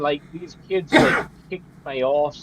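A single sharp sneeze bursts out between stretches of casual male conversation, loud and close.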